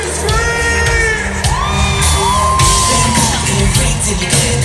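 Concert crowd at an NKOTB, Salt-n-Pepa, Tiffany, Debbie Gibson and Naughty by Nature show screaming loudly and continuously, with high whoops and shouts rising out of a dense roar of cheering.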